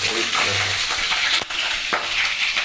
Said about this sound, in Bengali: এই যে মাছের তেলটা এবার মা দিয়ে দিচ্ছে কড়াইতে